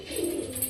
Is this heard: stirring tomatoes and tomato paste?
no